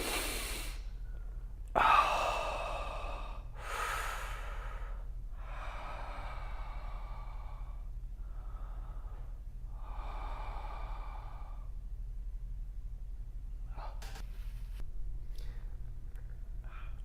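Deep, forceful breaths drawn in and pushed out in a slow series of long rushes of air, close and clear over a low steady hum, loudest at the start and gradually softer.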